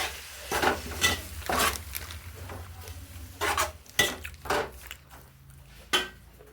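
Onions frying in the same oil left from frying chicken for biryani, with repeated stirring and scraping of a spoon against the pot over a steady sizzle, close and moderately loud, no talking.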